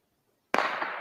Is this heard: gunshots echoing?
yes